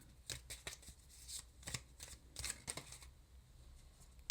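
Tea leaf oracle cards being shuffled by hand, a quiet close run of papery riffles and flicks in uneven bursts, then a brief settling pause.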